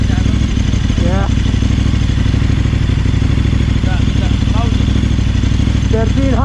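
A 1.3-liter, 1300 cc motorcycle engine idles nearby with a loud, steady, throbbing rumble, while people talk over it throughout.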